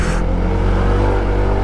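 Heavy vehicles labour up a steep mountain road in Luzon, producing a loud, continuous engine roar close by, with no voices.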